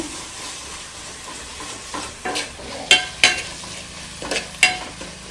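Tomatoes fry in a pan for chicken curry, with a steady close sizzle and sharp scraping clacks of a spoon stirring, growing more frequent toward the end.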